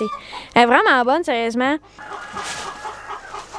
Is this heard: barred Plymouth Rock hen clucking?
yes